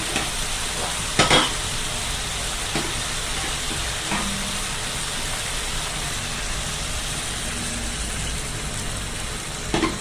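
Fish simmers in curry gravy in a pan with a continuous close bubbling sizzle, broken by a few sharp utensil knocks and stirring clatters.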